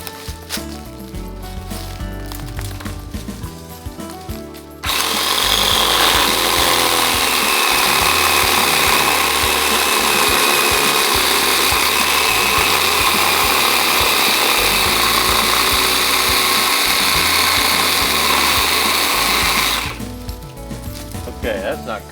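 An 18V Ryobi cordless pole saw, freshly oiled with its chain tightened, runs loud and steady as it works into multiflora rose brush, a continuous whining buzz starting after a few seconds of quieter background and cutting off near the end.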